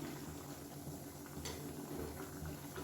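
Egg curry simmers in a wide kadai, giving off a quiet, steady bubbling hiss that runs unbroken throughout, with no clear scrape of stirring standing out.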